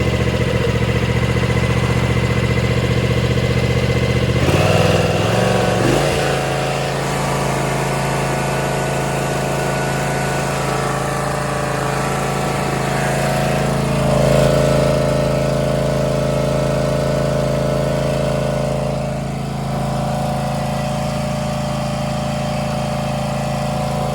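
A Kawasaki FR691v V-twin on an Ariens riding mower cranks and fires after a valve adjustment, then settles into a loud, steady close-up idle with a brief rev swell midway and no talking.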